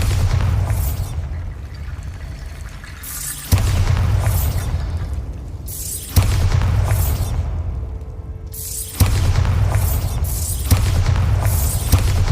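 Bombarda spell blasts from Hogwarts Legacy, five loud explosive booms spaced a few seconds apart, each a sharp burst followed by a rumbling, hissing decay.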